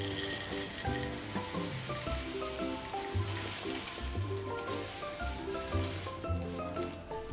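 Garlic peanuts pour into a storage jar with a steady, close rattling rustle that runs the whole time beneath continuous background music.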